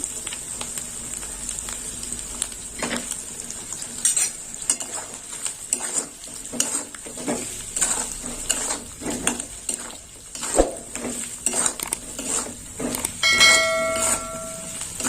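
A spoon scrapes and clinks repeatedly against a metal pan while cumin powder is stirred into a quick vegetable curry, irregular close metallic knocks over a faint sizzle, with a ringing clang near the end.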